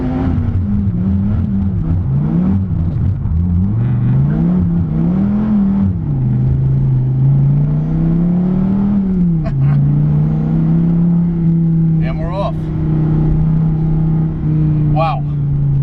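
A Dodge Viper T/A's engine revs and surges through a donut, its pitch climbing and dipping before settling into a steady high drone, loud and close with tire noise, while people talk over it.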